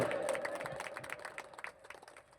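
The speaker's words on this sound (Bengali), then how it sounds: "ভাইকে সকলে একটু হাততালি দাও জোরে" Crowd clapping at a market inauguration in Falta, scattered and steady hand claps filling the scene, with a voice calling out over them and the applause slowly thinning toward the end.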